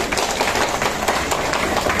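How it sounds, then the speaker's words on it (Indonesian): A classroom full of students applauds a classmate, a dense, steady patter of clapping hands that fills the whole two seconds at close range. "Terima kasih, tepuk tangan."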